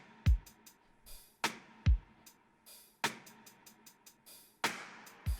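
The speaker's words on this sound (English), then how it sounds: "Up next, I just have my basic drums that sound like this." A basic programmed drum track for a music production breakdown, with deep kick thumps and bright snare and hat hits spaced in a steady, sparse groove, moderately quiet with no voices.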